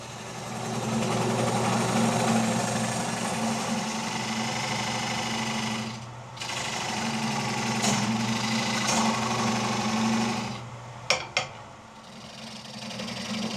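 Wood lathe spinning a slightly spalted maple bowl while a skew chisel cuts a tenon: a steady, close motor drone with the cut rising and easing, a brief dip, then a couple of sharp knocks near the end, with no talk.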